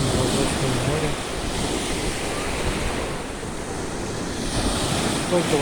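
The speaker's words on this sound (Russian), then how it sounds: "Красиво шумят волны в Азовском море." Waves of the Azov Sea wash continuously against a shallow shore at Golubitskaya, a dense, even roar of surf mixed with gusty wind noise on the microphone, no one speaking.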